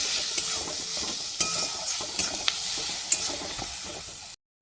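Spices fry in a pan with egg and soya chunks, making a steady, close sizzle with soft stirring scrapes and small clatters before the sound cuts out briefly near the end.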